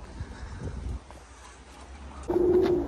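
Racing pigeons coo near a loft, a soft low coo rising at the end over faint background rustling and shuffling.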